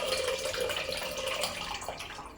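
Tamarind juice is poured into mashed dal in a kitchen, a steady liquid splash and trickle running unbroken and close for a couple of seconds with no voices.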